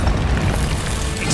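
A Confringo fire spell explodes in the video game Hogwarts Legacy, a short, loud, dense boom with a rumbling low end that fills the whole moment with no talking.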